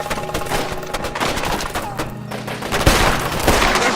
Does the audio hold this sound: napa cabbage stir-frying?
no